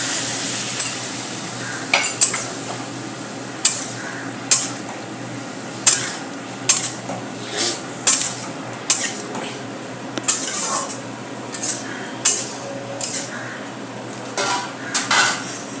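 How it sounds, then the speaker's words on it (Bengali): Spice paste frying in a pan while a utensil stirs it, repeated scraping knocks against the metal pan at a loose, regular rhythm over a continuous sizzle, close and fairly loud, no talk. "এইবার আমাদের যে পেস্ট আছে সেই মশলার পেস্টটা আস্তে করে দিয়ে দিলাম।"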